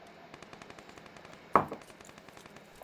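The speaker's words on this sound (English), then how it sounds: "He's hearing shots, he's looking." Rapid gunfire in the battle royale game PUBG, a fast rattling burst of shots at middle distance, followed by one louder, closer shot and a short decaying tail.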